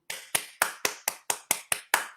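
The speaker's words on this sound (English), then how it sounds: "I only heard one person applauding there." A single person claps nine times in an even rhythm over an online call, each clap sharp and close, with no other applause or voices.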